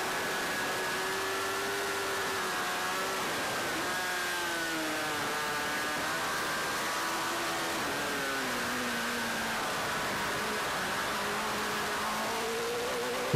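Motorcycle climbing a steep hill in onboard riding at the Isle of Man TT, its engine note rising and falling in pitch as it labours and shifts, under steady wind roar.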